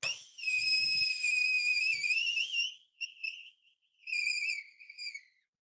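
A shrill, steady whistle, like a kettle coming to the boil, holds for a few seconds, then sputters and returns in shorter bursts before fading out.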